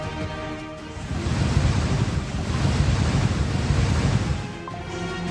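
Floodwater rushing after heavy rain in Davao City, a continuous loud roaring wash of water with wind-like rumble, steady throughout with no voices.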